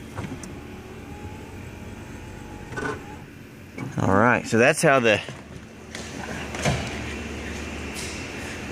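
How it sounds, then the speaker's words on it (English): Doors of a 1988 Ford Econoline van with a wheelchair lift being shut, a run of sliding, rattling mechanical sounds followed by a couple of solid thuds, close by, with someone talking briefly afterward. "And then close the doors."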